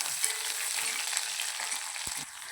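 Shallots, green chillies and curry leaves sautéing in a pan, a continuous close hiss of frying oil with a few light stirring knocks, no voices.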